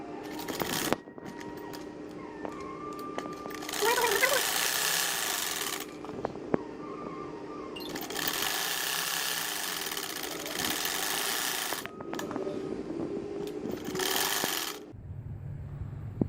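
A sewing machine stitches a baby frock and its chest cut in bursts of steady whirring, each run lasting a few seconds and separated by short pauses, close and fairly loud, with a soft click at the end.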